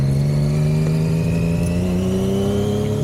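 Engine of a Triumph Daytona 675R sport motorcycle riding down a gravel hill, a loud, steady close-up drone with tones that rise slowly and continuous wind noise.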